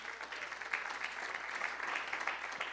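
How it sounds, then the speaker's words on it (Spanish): Church congregation claps together as an offering of praise to Christ, a steady wash of many hands at moderate distance, fairly soft and continuous throughout. "dele una ofrenda de palmas a Cristo Jesús"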